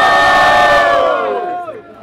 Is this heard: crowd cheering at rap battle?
yes